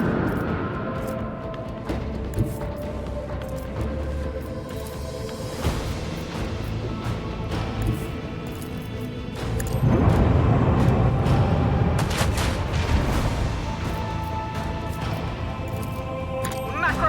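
Cannon fire in the Warhammer 40000 Rogue Trader video game, repeated heavy crashing booms and impacts over a dense rumbling battle bed, with voices shouting orders throughout.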